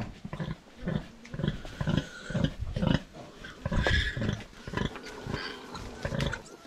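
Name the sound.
pet pigs and piglets grunting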